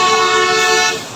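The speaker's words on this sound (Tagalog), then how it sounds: "Ang ingay ng mga sasakyan, lalo pag medyo matraffic, busina ng busina" A single loud, sustained car horn honks in congested city traffic on a Manila road, holding a steady tone for about a second before trailing off.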